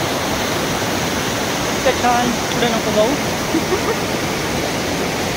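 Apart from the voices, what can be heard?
Chorchavdi waterfall at Dahivad, Deola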